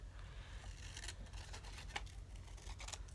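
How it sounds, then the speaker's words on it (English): Scissors cut along a marked line in paper for a craft flower, soft crisp snipping and rustling strokes, faint and close, with a low steady hum beneath. "So you just want to cut along that cut line, giving you 2 pieces out of each flower."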